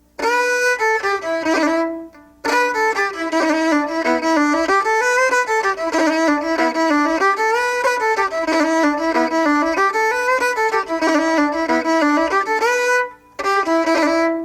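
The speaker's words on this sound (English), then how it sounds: "take out the triplet and substitute a roll, and it would sound like this." A solo fiddle plays a lively, ornamented reel-style tune with quick rolled notes, breaking off briefly twice before carrying on.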